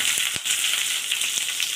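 Green chillies sizzle steadily in a frying pan of hot oil, a continuous bright hiss with a few faint pops, close by and alone.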